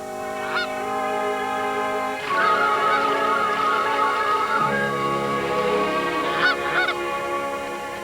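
A Canada goose honks loudly and close by, a few sharp nasal calls at the start, then a longer run of harsh, repeated honking, with more brief honks near the end.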